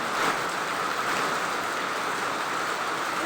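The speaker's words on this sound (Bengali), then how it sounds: "দেখো প্রচুর পরিমাণে বৃষ্টি পড়ছে।" Heavy rain pours in a dense, unbroken hiss at a steady level, with no voices over it.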